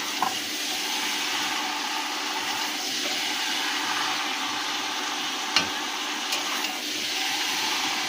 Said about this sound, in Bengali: মাংসটা দেওয়া হয়ে গেছে, এবার আমরা নাড়িয়ে নেব।